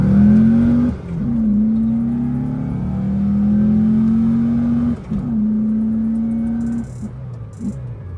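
A Volkswagen Beetle with a 2.2-litre engine drones steadily while driving, its note rising slowly through long gears with brief dips at shifts, loud and close.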